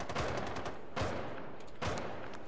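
Gunfire rips through a ceiling in Rainbow Six Siege, three loud bursts of rapid shots spaced about a second apart.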